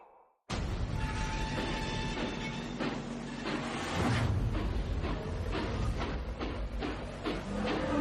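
A train rolls past after a moment of near silence, a steady rumbling rush with rhythmic clatter and a faint high tonal whine, loud and sustained throughout.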